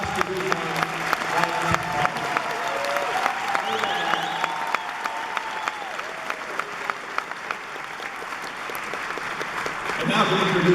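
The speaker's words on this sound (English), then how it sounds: "please give a warm round of applause for our 2 essay winners, Josh de Guzman." Applause from an audience at an arts education award ceremony honouring essay winners, a steady wash of many hands clapping for about ten seconds, with a voice speaking over it partway through.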